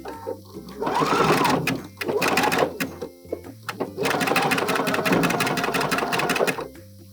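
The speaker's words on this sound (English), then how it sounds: "So I'm using a fixed stitch here." Sewing machine running in several sustained bursts with brief pauses, stitching bralette fabric with a fixed stitch and zigzagging the picot elastic under, steady and close.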